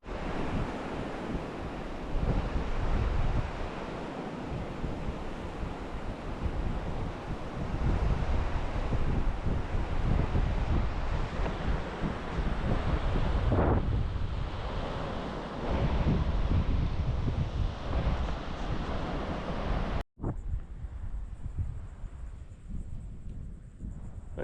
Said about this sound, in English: Over there is the ocean